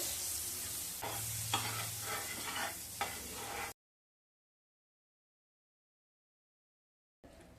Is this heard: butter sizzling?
yes